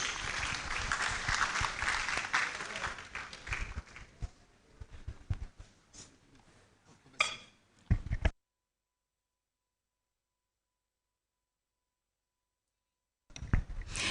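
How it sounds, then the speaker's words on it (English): Audience applause at a university inaugural lecture welcoming the Vice Chancellor, a full burst of clapping that thins into scattered claps and a few hand taps, cuts to silence, then resumes briefly at the end. "Let's welcome our Vice Chancellor with a round of applause."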